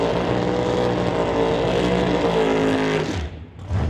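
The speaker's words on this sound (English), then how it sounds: "Taking up the Artex Racing Total Dairy Solutions Chevy Camaro, racing to an 852 with the buy run on this round of eliminations" An Artex Racing Chevy Camaro drag race car makes its elimination run, a loud, steady engine roar holding for about three seconds before cutting off sharply, with an announcer talking over it.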